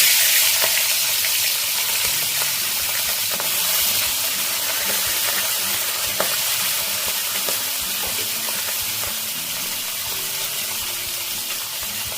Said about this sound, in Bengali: তেল গরম হয়ে গেছে, ইলিশ মাছের মাথাগুলো ভেজে নেব।